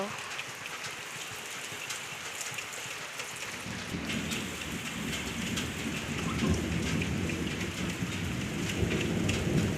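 Steady morning rain pours onto surfaces, then a deep roll of thunder swells in midway and rumbles on beneath the downpour to the end.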